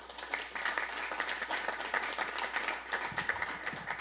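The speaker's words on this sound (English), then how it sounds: "Wild applause." Morning-show crowd applause at a sailing regatta's race-day gathering, a steady patter of clapping across the room with a low background hum throughout.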